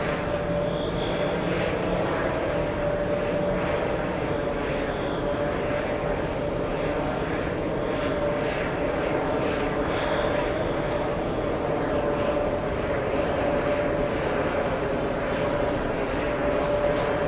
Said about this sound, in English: Delta 884 coming in from Phoenix on the